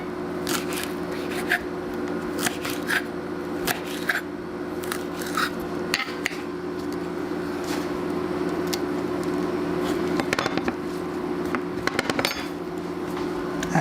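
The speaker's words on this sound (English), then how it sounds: "I just sort of roll it up and then just cut it a little bit." Fresh garden basil, rolled up, is snipped in a series of short, crisp cuts spread across the stretch, close and moderately loud over a steady kitchen hum, with a few sharper clicks near the end.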